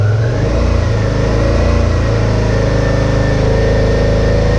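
A motorcycle fitted with Oxford heated grips revs up from idle and holds a steady, loud, close mid-pitched engine drone at raised RPM.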